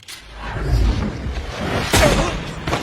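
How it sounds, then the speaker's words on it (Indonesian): A gunshot from the 2008 action film Wanted, fired in a deserted building, lands as a sharp, loud boom with a short whooshing tail after a low rumbling build, with no dialogue. "akibat panik, Wesley tak sengaja menembak si Rusia tepat di dadanya"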